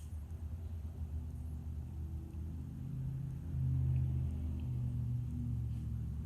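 Cars pass by as a steady low rumble of road traffic that swells near the middle and then eases off, heard from a distance with no voices.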